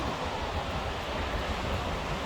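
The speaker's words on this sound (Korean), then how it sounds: "바람 많이 불지" Strong wind and surf on the Aewol seashore of Jeju after heavy rain, a steady broadband roar of gusts and breaking waves filling the whole clip with no pauses.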